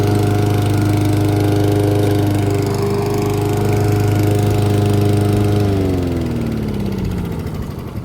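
A Dnipro-M lawn mower engine drones loudly at a steady pitch while the mower drives, then its note sags and winds down toward the end.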